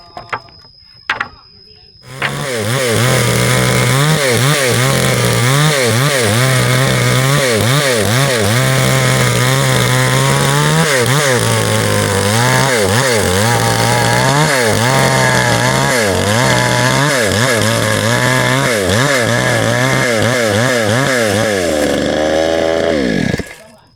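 A chainsaw cuts wood, starting after a few brief knocks and then running loud and close for about twenty seconds, its engine pitch rising and dipping as the blade bites, before winding down.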